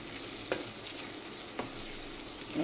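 Garam masala is stirred into a Punjabi-style vegetable gravy in a pan, with soft spoon scrapes every second or so over a quiet, steady simmering sizzle.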